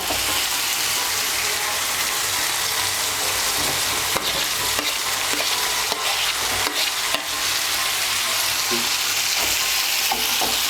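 Fried potatoes and raw plantains stirred into vegetables cooking with mustard paste for Bengali sukto, a loud steady sizzle with scraping spatula strokes and a few sharp knocks against the pan; no speech.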